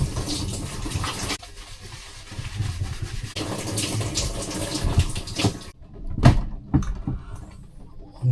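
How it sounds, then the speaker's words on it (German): A shower sprays inside a camper van's plexiglass stall, a steady rushing hiss of water for several seconds that cuts off, followed by a few scattered knocks and clunks in the small space. "Und ich gehe jetzt mal duschen."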